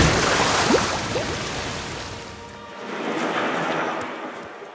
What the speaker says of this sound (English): Just really big waterfall.